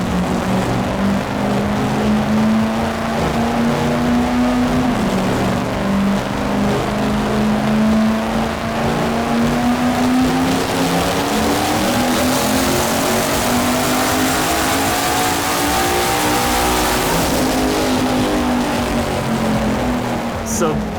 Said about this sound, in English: Once they get on the dyno, they start tuning.